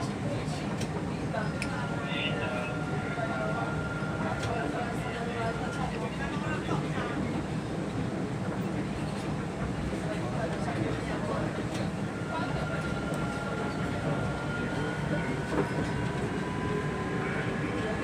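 Sky Train airport people mover running between terminals at Soekarno-Hatta Airport, a steady rolling rumble with faint whining tones rising and fading, heard from inside the car while people talk.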